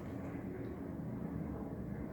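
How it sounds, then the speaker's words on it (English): An airplane passes overhead near an airport, a faint, low, steady rumble heard from indoors, distant and unchanging over two seconds. "that was a plane"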